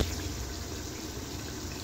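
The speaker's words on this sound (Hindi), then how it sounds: "अब मैं इसके अंदर पानी ऐड कर लूँगी।" Water pours into a pot of fried boiled chickpeas while making chana pulao, a steady close rushing gush that runs without a break and with no talking.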